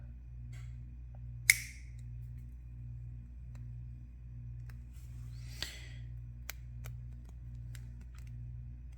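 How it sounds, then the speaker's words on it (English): A single sharp snip of cutters clipping the tip off a freshly soldered wire splice, crisp and close over a steady low electrical hum, followed by a softer rustle and a couple of faint ticks. "Make sure you don't cut the wire you just soldered, but just the end, just that tip off"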